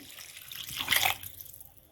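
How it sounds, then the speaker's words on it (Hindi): Water poured into a pot of rice for vegetable pulao, a brief splashing pour swelling near the middle and fading out, fairly quiet and close, with no talk. "इसमें 4 कप पानी डालेंगे"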